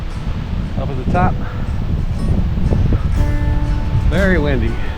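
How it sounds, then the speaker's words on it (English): Strong wind roars steadily across an open mountain summit in autumn, a loud rushing broadband noise. Voices speak briefly over it at several points. "Very windy."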